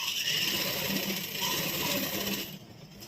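A sewing machine stitches the collar of a child's kurta, whirring steadily and close before slowing and easing off toward the end.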